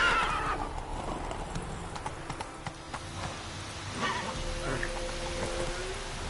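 A horse gallops and neighs in a console video game, with fast rhythmic hoofbeats and a whinny near the start over light rain-like ambience, fairly quiet and without talk.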